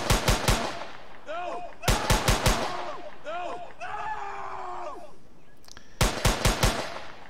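Unreal Engine 4 shooter template game gunfire as bots are shot: rapid three- and four-round bursts of loud shots with pauses, plus game sound effects between volleys.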